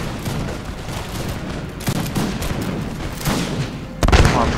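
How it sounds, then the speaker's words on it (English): Militia musket volleys in an Empire: Total War battle, a steady crackle of scattered shots rolling on through the clip, with a heavier boom near the end. "the militia starts opening fire now"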